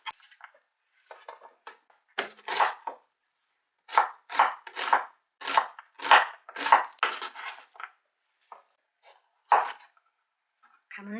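A knife slices thinly through persimmon, onion, garlic and ginger on a cutting board while kimchi seasoning is prepared, with clear, close, rapid chopping strokes in short bursts separated by pauses.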